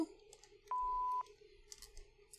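A single steady electronic beep tone holds for about half a second in a quiet video game room, with faint clicks and soft ambient hum around it.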